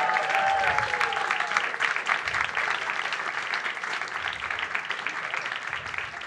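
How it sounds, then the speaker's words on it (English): Steady, loud applause from a live talk show audience in New York fills the whole stretch, dense clapping without pause, with a faint whistle near the start. "I get applause"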